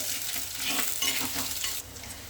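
Chopped tomatoes, onions and green chillies sauté in a hot pan for a fish curry, giving a close, loud sizzle with a few scraping stir strokes that ease off near the end.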